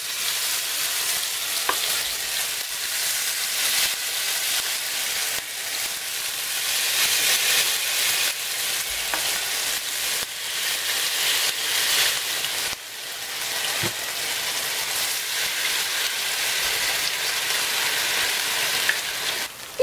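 Potato pancakes with minced meat sizzle steadily in an oiled frying pan, a continuous crackling hiss with small pops, briefly dipping partway through before resuming at full strength.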